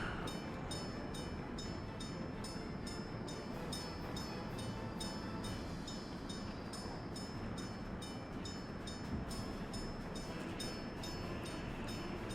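A train in a video game rolls steadily through an intersection, a faint continuous rail rumble with a regular clicking pattern repeating throughout.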